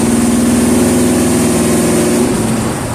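A Ford E150 van with a swapped 351 Windsor V8 running under load, a loud steady engine drone close up, pitch holding then dropping slightly near the end.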